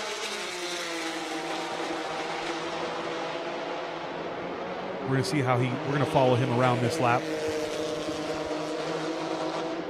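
A race car lapping Circuit of the Americas during a Super Lap Battle time-attack event drones steadily in the distance, its engine swelling briefly with a few rising and falling revs midway while a commentator talks throughout.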